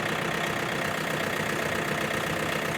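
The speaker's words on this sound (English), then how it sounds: "with these electronic PTOs, I prefer to idle tractor all the way down" A tractor engine idled all the way down for garden tilling chugs at a low, even throb, steady and close, with no voices over it.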